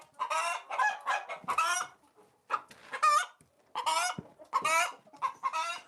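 Backyard chickens and a rooster cluck close by in several bursts of excited, squawking calls separated by short pauses, with no other sounds around them.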